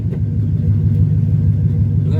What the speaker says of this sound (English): He just got open pipes. We got to get some exhaust on him,